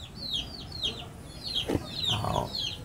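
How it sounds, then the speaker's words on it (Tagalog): A white chicken clucks in a quick series of short, nasal calls repeated steadily, close and fairly loud, with no talk over it. "Yan ang puting manok ko."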